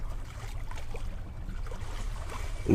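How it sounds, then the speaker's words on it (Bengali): A cartoon boat bumps against a riverside landing ghat in a Bengali horror story. A steady low watery rumble and lapping run throughout, ending in a louder close knock as the hull touches. "নৌকা ঘাটে এসে লাগলো।"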